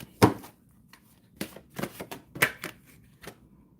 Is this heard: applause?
no